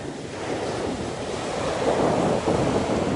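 Ocean waves roll onto the shore in a broad, continuous wash with wind buffeting the microphone, swelling louder toward the end.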